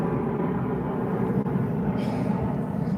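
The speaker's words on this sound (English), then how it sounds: "those cargo planes, man, they rumble overhead." Cargo planes near DFW Airport produce a continuous low, heavy rumble overhead, steady and fairly loud throughout, with no distinct breaks.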